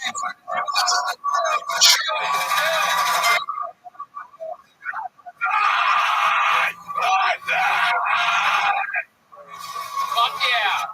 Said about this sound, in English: give us an example of some of your screaming vocals?